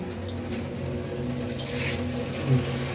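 Hot boiled water pours steadily into a pot of rice for biryani in a continuous, moderately loud stream over a low background hum, with no talking.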